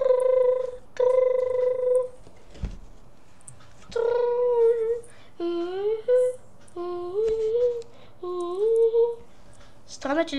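Electronic phone tones from a phone call in the video game Five Nights at Oldy's 2, a few steady beeps followed by short gliding tones, clear and close with no talking.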